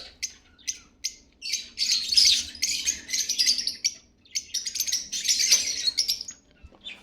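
Blue-marked lovebirds in a breeder cage give close, bright chirps in a lively string: short calls early on, then two longer stretches of busy twittering with brief pauses between.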